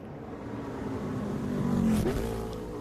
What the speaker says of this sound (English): Cars making their way gingerly around the track right now